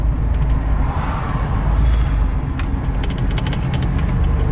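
A 1956 Chevrolet Bel Air drives along, its engine a steady low rumble with road and tire noise, loud and continuous, with a few faint clicks near the end and no talking.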